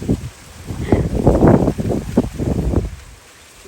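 Gusts of wind buffet the microphone in uneven bursts among garden trees, swelling and fading, with a rustling, rushing quality and no talking.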